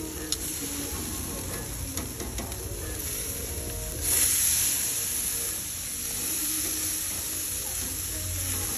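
Flank steak with garlic and rosemary sizzles loudly on a hot grill after being flipped, a continuous close hiss that swells briefly midway, with no voices.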